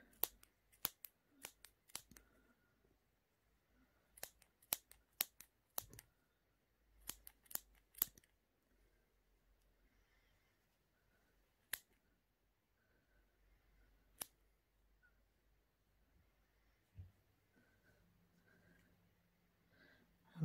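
Scissors snipping through wool loops for a crochet bunny garland, sharp quiet clicks in quick irregular bursts early on, then sparser single cuts separated by near silence.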